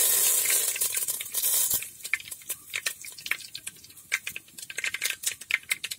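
Curry leaves and mustard seeds hit hot coconut oil with a loud, bright sizzle that settles into scattered crackles and pops, close and continuous, with no talking.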